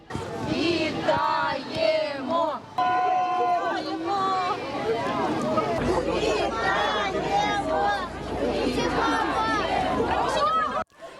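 Relatives and loved ones erupt in emotional shouting and cries as a bus carrying freed Ukrainian defenders arrives, with overlapping excited voices, calls and sobs forming a loud, close crowd clamor throughout.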